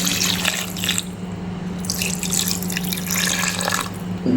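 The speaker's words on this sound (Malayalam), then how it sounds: "അതിനകത്ത് പുളിവെള്ളം നമുക്കിപ്പോൾ കുറച്ച് ഒഴിക്കാം" Tamarind water poured into a pan of fish curry makes a steady running, splashing pour with faint drips, close and fairly loud, with a short pause in the middle.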